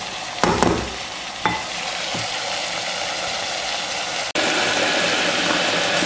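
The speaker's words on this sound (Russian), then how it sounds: "Овощи дали сок. И в этом соку они обжариваются." Vegetables sizzle and bubble steadily in their own juice in a multicooker, with a few scraping stirs early on and a brief clatter before the sizzling resumes.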